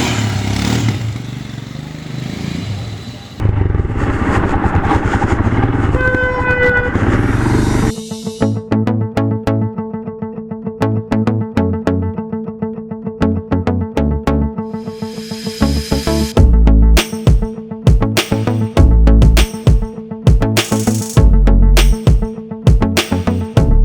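Royal Enfield Himalayan 2021 motorcycle pulling away on a ride, its engine note rising through gears with a steady single-cylinder thrum, close and loud, with sharp clatter and wind hiss in the later part.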